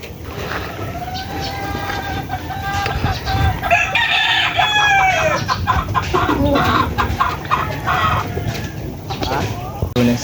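White Kelso roosters crowing and clucking, with several drawn-out crows and scattered clucks, fairly close against a steady background rumble.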